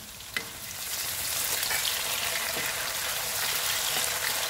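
Chopped tomatoes and golden onions sauté for a fenugreek seed gravy, giving a dense, steady sizzle that swells after an opening tap, with faint stirring scrapes and no voices.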